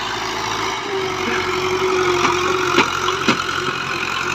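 A Fiat 640 tractor engine runs with a steady mid-pitched drone, close and loud, with a few sharper knocks and clunks toward the end as it labours with a disc implement in Punjab, Pakistan.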